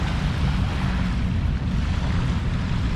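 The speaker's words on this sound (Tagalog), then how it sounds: "Ito yung ating dalampasigan ng Dolomite." Waves wash onto the Dolomite beach shore of Manila Bay during the rainy habagat season, a steady rumbling surf with heavy wind buffeting the microphone, loud and continuous with no voices.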